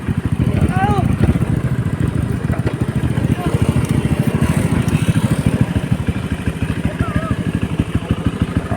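A Honda motorcycle riding along a road in Lobo, Batangas, its engine a steady close rumble with rhythmic pulsing throughout, while people talk over the noise.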